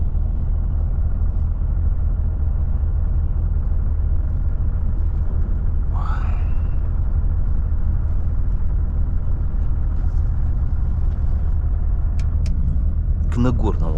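Inside a Volvo FH 540 truck on the dusty Lena highway toward Yakutsk, a constant deep engine and road rumble drones throughout, with a brief voice midway and a few light knocks near the end.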